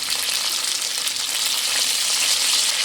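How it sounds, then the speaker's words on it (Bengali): Chopped broad beans fry and get stirred in a pan with a steady, close, dense sizzle that runs unbroken throughout, with no voices. "খুব ভালো করে শিমটা আমি একটু নেড়ে দেব"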